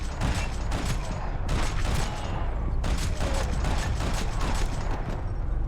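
Gunshots in the video game Max Payne 3 played on Xbox Series X: dense, continuous action din with rapid repeated shots throughout, loud and busy, with constant game effects underneath.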